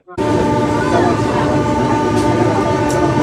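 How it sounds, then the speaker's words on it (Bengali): A train departing Santragachi station platform 2 rumbles loudly nearby after an abrupt start, a dense mechanical roar with droning tones, steady for a few seconds. "প্রায় 27 মিনিট দেরি করে আমাদের ট্রেন ছাড়লো সাঁতরাগাছি স্টেশনের 2 নম্বর প্ল্যাটফর্ম থেকে"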